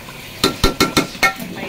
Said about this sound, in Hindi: अच्छे से दही को मिक्स करेंगे पहले।